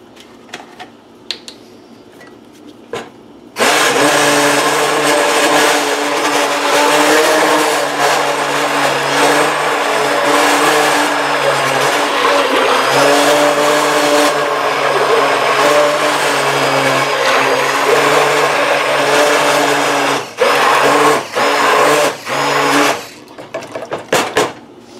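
An immersion blender buzzes loudly and steadily for about twenty seconds while blending potato soup in a home kitchen, starting abruptly after a quiet moment and cutting in and out briefly near the end.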